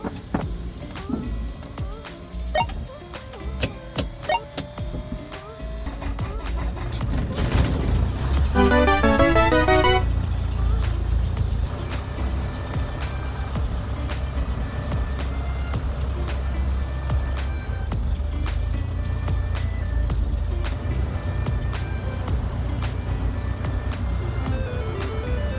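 A Cessna 152 or 172 light aircraft's propeller engine cranks with a rising whine, then catches and settles into a loud, steady, continuous roar that runs on without any talking.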